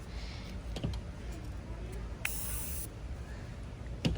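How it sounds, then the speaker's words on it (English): Short bursts of setting mist spray from a pump bottle onto eyeshadow swatches on an arm, a close airy hiss with a longer spray in the middle and light clicks around it. "So I applied the mist on my swatches"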